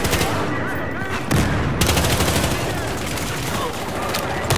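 Rapid gunfire from the video game Battlefield Hardline, loud and close, rattling in dense overlapping bursts that continue without a break under a busy wash of game noise.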